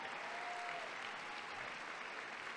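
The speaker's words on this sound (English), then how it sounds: "Let's give a round of applause for all of our parents who are here today." Faint, distant clapping from a conference audience applauding parents at the CABE 2018 event, a brief, even wash of applause with no voices over it.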